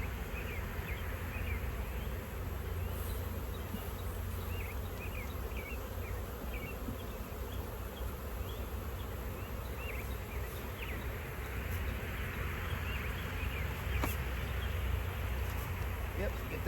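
Many bees buzz steadily around the listener, a dense droning hum with individual insects passing close, with faint voices in the background.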